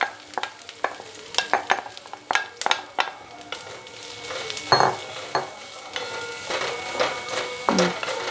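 Onion frying in hot oil for a Savji-style curry gives a close, steady sizzle with frequent sharp clicks and scrapes of a spoon stirring in the pan, and one louder burst midway. No one speaks.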